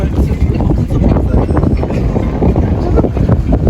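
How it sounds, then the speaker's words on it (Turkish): Strong wind near Alaçatı, Çeşme buffets the microphone in a continuous low roar with gusty rumbling throughout, loud and close. "Çok fena da rüzgar var."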